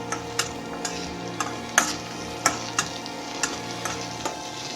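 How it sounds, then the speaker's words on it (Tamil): Tomatoes and chillies sautéing in a pan for bread masala dosa, a steady low sizzle broken by a series of irregular light scraping and tapping stirs, close and fairly quiet. "இது ஒரு ஃபைவ் டென் மினிட்ஸ்க்கு நல்லா வதக்கிக்கலாம்"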